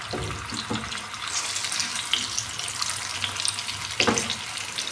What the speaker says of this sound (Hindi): इसमें सारे ये एग्स जो कट्स लगाई थी इसमें फ्राई करनी है आपने